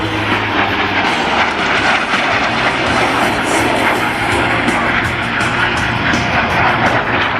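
Continuous loud roar of PZL TS-11 Iskra jet trainers passing overhead at an air show in Radom, steady and broadband with no speech, sustained throughout.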